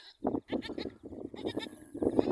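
Newborn goat kids bleat in short, repeated wavering cries, close and fairly loud, several calls following one another in quick succession.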